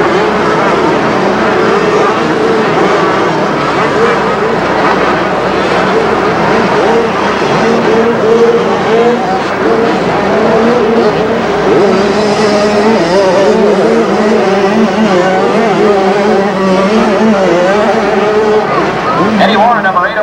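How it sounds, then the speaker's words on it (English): Honda and Suzuki motocross bikes race at a 1985 Orlando supercross, a steady loud engine roar filling the whole stretch while an announcer talks over it. "Brooks running into number two position has got his eyes marked on the red wheel of Warren's bike"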